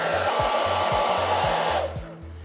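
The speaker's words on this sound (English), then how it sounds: "we're going to take our diffuser and now begin to diffuse it dry" A hair dryer fitted with a diffuser dries curly hair with a loud, steady close-up blowing roar, then cuts off near the end, alone with no talking.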